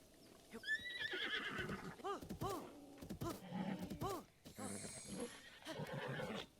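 A horse in the Breath of the Wild video game whinnies near the start, then repeated rising neighs and rhythmic galloping hoofbeats carry on, with a voice talking quietly underneath.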